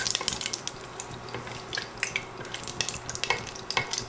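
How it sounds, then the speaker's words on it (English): Whole spices crackle and sizzle in hot ghee at the start of a methi murg, with a steady close fry broken by sharp scattered pops and spits throughout, no voices. "Now I'm adding all the whole spices and let them get infused in the oil, the flavor."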